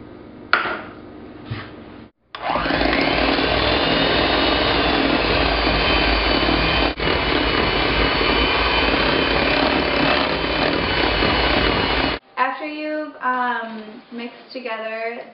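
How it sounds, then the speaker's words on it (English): An electric mixer whirs loudly and steadily for several seconds, creaming unsalted butter and packed brown sugar, then cuts off as a voice starts talking. "we're going to cream together 2 sticks of unsalted butter"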